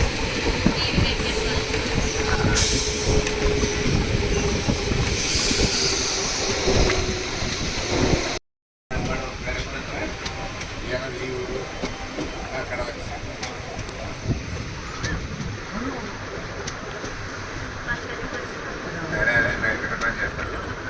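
A train slowing near Alampur station rumbles and rattles along the tracks continuously, loud and close, with a brief dropout partway through.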